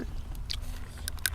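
Someone bites into and chews shellfish such as cockles and sweet snails, giving a few soft, close crunches and wet chewing sounds at low volume with no talking.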